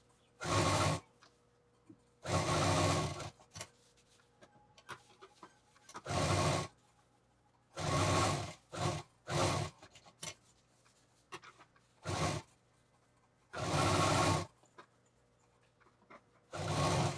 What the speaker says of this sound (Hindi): अब इसमें हम लाइनिंग लगाते जाएंगे और इसको सिलते जाएंगे